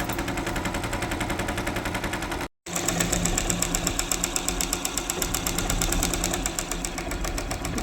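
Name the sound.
sewing machine stitching a border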